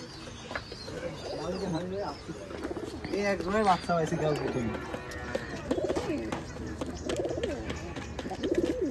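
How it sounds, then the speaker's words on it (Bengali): Pigeons in a black jag pigeon loft on a Rajshahi pigeon farm coo softly and repeatedly, with scattered chirps, under fairly constant nearby conversation in Bengali. "এই হলো শাওন ভাইয়ের কবুতর"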